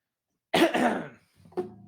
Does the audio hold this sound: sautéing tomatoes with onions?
no